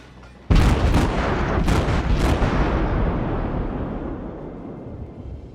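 A cruiser in World of Warships fires a salvo of naval shells at a destroyer. Several deep booming blasts arrive in quick succession, then a long rumbling roar slowly fades, with no voices.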